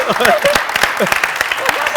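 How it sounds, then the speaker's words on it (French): A studio audience at a New Year television special claps for Philo, scattered sharp claps running beneath a voice that keeps talking over them. "applaudissements pour Philo"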